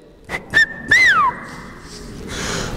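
A man imitates whistling with his voice, several short shrill tones and then one longer gliding whistle that rises and falls, close and fairly loud, with faint room noise after.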